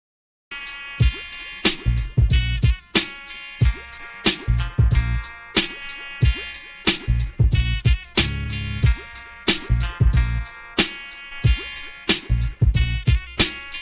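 A hip-hop instrumental beat plays alone, with punchy kicks and snares in a steady, loud rhythm over sustained melodic layers.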